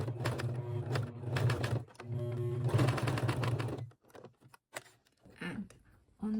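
A domestic sewing machine with a Teflon foot stitches a small leather demilune bag in two close, rapid whirring runs, then a few brief clicks and short bursts as the work is adjusted.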